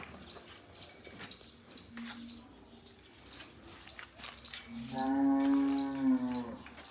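Cattle on a farm let out one long, loud, low moo near the end, rising above quieter farmyard background noise.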